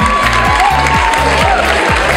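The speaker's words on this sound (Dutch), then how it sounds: "Een applaus voor nummer 4, Leticia Verhagen." Audience applause for a contestant at a Miss Fashion semi-final pageant, a steady dense clapping wash with a rhythmic low musical beat pulsing underneath throughout.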